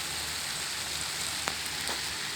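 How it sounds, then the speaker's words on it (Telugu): Overhead sprinklers in a greenhouse spray water down like rain, a soft, even hiss of falling drops with a couple of faint taps, no voices. "పైన స్ప్రింక్లర్లు ఉంటాయి. ఇవి వర్షంలో పడతాయి."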